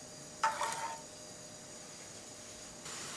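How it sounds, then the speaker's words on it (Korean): Water at a rolling boil in a cooking pot, salted with a spoonful of coarse salt, ready for cockles: a faint, steady bubbling hiss with a brief metallic clatter near the start. "물이 팔팔 끓고 있어요."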